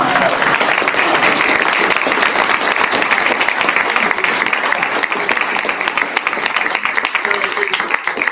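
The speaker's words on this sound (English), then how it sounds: "We can give her a round of applause" An audience at a talk on disease, power and capitalism in the Cotton Kingdom gives the speaker a loud, sustained round of applause, a dense, continuous wash of many hands clapping close by for the whole stretch.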